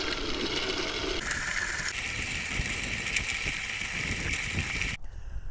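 Neversink Iconoclast Tilther manual tiller working a garden bed, giving a continuous clattering, ratcheting rasp of tines churning soil that shifts in tone partway through and stops abruptly near the end.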